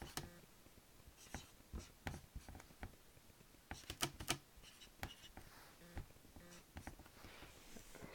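Handwriting on paper while sketching out an attack plan gives faint, close pen scratches in short irregular strokes and taps, with no talk.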